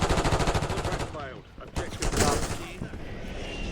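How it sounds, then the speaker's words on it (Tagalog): Rapid automatic gunfire from a Warzone shooter game rattles loudly in quick bursts, with a pause and further shots, while a player talks over it. "Tuloy, binabaril ako."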